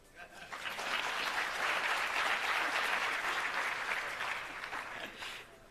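Audience applause at a technology centre launch event, a steady wash of many hands clapping that swells quickly and holds loud for several seconds before tapering slightly at the end.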